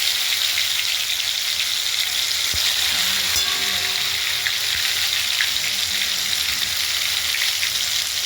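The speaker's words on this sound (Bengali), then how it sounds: "কড়াইয়ের ওপরে একটু চিনি দিলাম এবং একটু লঙ্কা বাটা দিলাম।" Sugar and chilli paste sizzle steadily in a kadai for a Bengali pabda fish curry, a loud continuous frying hiss with a few stirring scrapes and clinks.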